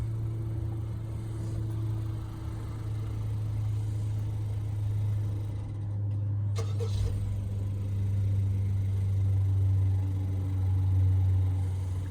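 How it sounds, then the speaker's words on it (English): A 2025 Ram 1500 Rebel X pickup with the 3.0 engine idles steadily after startup, a constant low rumble that holds throughout with no voices. "So I started the truck up"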